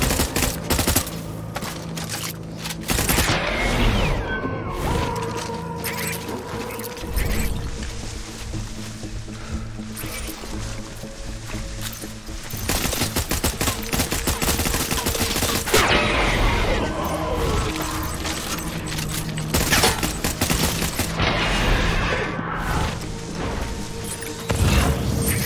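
Bursts of rapid automatic gunfire and heavy booms in a firefight in the video game Death Stranding, loud and repeated across the stretch with brief lulls between volleys.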